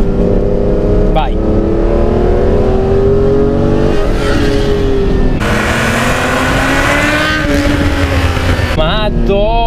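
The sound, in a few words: Ferrari Testarossa engine revving while driving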